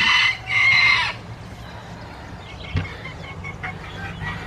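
Silver Sebright bantam chickens in pens crow loudly and nearby at the start, then cluck and murmur more softly, with a brief knock partway through and a distant car hum.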